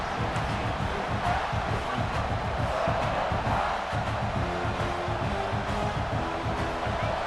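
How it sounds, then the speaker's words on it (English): Football stadium crowd roaring steadily throughout, a dense, loud wash of cheering behind the defense during a college game between Army and South Carolina. "The crowd getting behind this defense as they try to get a stop in the red zone."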